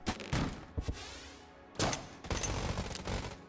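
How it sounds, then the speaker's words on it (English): Blunderbuss scatter-shot blasts in the Enter the Gungeon video game: several loud booming bursts, a couple of quick shots early, then heavier sustained volleys toward the end. "Blunderbuss, scatter shot. That's a lot of bullets."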